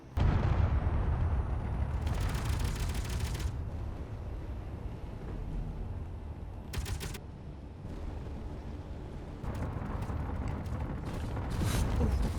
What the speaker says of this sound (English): those shots are coming uncomfortably close to my head